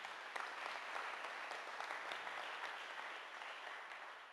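A quiet, distant-sounding round of clapping rises from the audience at a Truth and Reconciliation community hearing in Hobbema, Alberta, thanking the commissioners; individual claps stand out early before the applause slowly thins.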